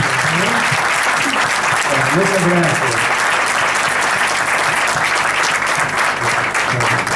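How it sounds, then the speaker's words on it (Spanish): A crowd applauds steadily throughout, a dense wash of clapping, while a voice speaks briefly over it. "así que le vamos a dar un aplauso"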